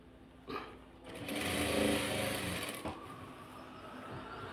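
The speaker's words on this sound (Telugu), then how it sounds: "ఇలా మనం చక్కగా స్టిచ్చింగ్ చేసేసుకోవాలి" A sewing machine stitches a cotton blouse, a soft mechanical whirring burst that rises for a couple of seconds and then tapers, framed by a few faint clicks, quiet and close.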